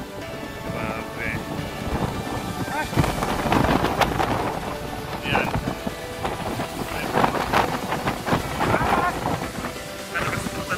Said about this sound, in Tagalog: Kalakas po talaga ng hangin.